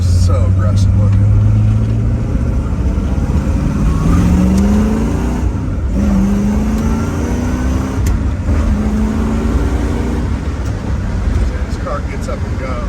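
A 1966 Corvette 427 with a four-speed gearbox accelerates hard, its loud engine rising through several climbing revs and gear changes, with a steady road roar underneath.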